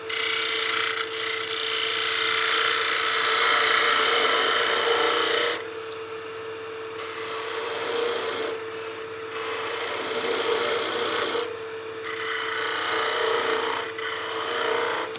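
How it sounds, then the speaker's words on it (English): A 3/8 spindle gouge cuts a wooden pot turning on a lathe, giving a loud, continuous scraping rasp. It eases off briefly and comes back in several passes, with a steady machine hum underneath and no talking. "I'll use my 3/8 spindle gouge to get in there and try and remove as much of that nub"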